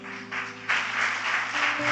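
A church congregation applauding during a Sunday service, steady clapping that swells louder partway through and carries on with no voices over it.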